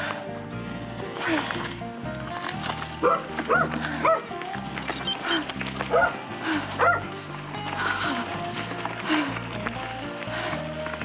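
A dog barks repeatedly in short bursts, moderately near, with some yips mixed in over a steady outdoor background.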